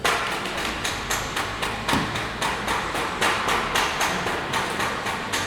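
Rivet gun bursts on Lancaster NX611 restoration wing skins, a close, loud rapid series of rhythmic hammering bursts repeating roughly every half second.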